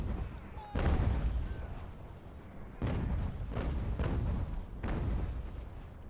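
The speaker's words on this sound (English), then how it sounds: "these guns are sort of firing over our heads" Artillery guns firing overhead in a video game, several heavy deep booms arriving one after another at irregular intervals, each leaving a long rumbling tail, with no talking.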